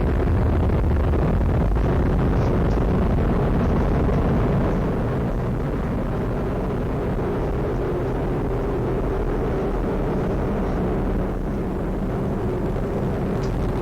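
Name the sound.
Atlas V rocket launch, RD-180 engine roar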